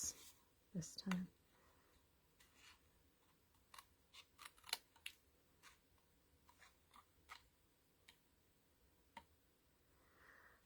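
Scissors cut paper at a crafting table, making soft, sparse, close snips scattered through a quiet room with long pauses between cuts.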